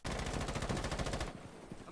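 Rapid automatic gunfire in a video game as a player shoots down a drone, a steady stream of fast shots for over a second that then cuts off into lower rumbling.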